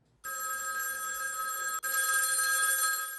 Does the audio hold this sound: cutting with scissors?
no